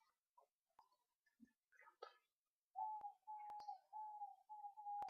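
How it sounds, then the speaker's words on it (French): A bird sings in a game dream scene: scattered short chirps and twitters, then a series of sustained clear whistled notes repeating near and distinct against silence, with a few sharp clicks between them. "j'entends toujours l'oiseau chanter"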